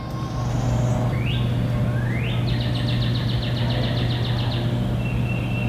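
Birds chirp and whistle with rising calls and a rapid trill, set against a steady low hum of distant traffic.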